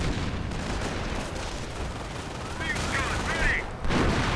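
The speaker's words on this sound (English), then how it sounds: "More artillery fire" Artillery and gunfire in a real-time strategy game battle, a dense rattle of shots and distant bursts with a heavier thump near the end, under faint voices.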